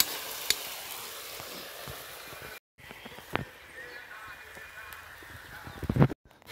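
Meat frying in oil with spices, a moderate continuous sizzle broken by stirring scrapes and clinks, with a short gap and a voice speaking faintly in the background.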